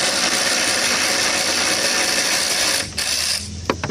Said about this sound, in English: That's my ratchet, Earthquake XT, cordless 3/8 drive ratchet with a 10mm socket on it.